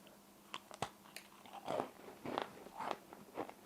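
Crunchy bites into a chocolate-sprinkled Wookiee cookie, a few sharp close cracks followed by several rhythmic chewing crunches, fairly quiet with no talk.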